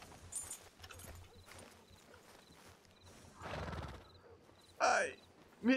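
A horse named Klaus in the RedM video game gives a loud snort and whinny near the end, preceded by soft hoof clops and a low rumble, with someone talking throughout.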